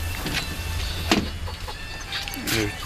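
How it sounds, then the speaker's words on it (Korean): Chickens, including a yellow one, cluck and squawk in short bursts against a noisy outdoor background with low rumble, fairly faint overall. "자 저기 보이는 노란 닭 보이지"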